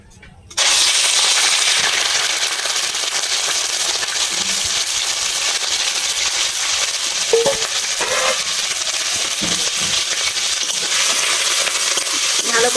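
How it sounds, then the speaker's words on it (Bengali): Shrimp hit hot mustard oil after a brief quiet, setting off a sudden loud sizzle that keeps crackling steadily close by, with a few faint clinks. "তেল গরম হয়ে গেছে, আমি চিংড়ি মাছগুলো সব দিয়ে দিচ্ছি"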